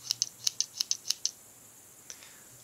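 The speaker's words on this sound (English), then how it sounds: "One of the most useful tools is the scissors, in my opinion." Scissors on a Victorinox Cybertool 34 Swiss Army knife snip about eight times in quick succession, crisp, close and fairly quiet, followed by a lone faint click.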